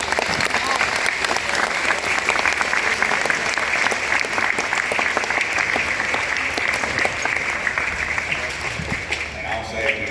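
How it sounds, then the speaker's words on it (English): Loud, dense applause from a school crowd at a mock wreck event, continuous clapping for about ten seconds that thins slightly near the end, with some voices mixed in. "Can we get a huge round of applause for everybody?"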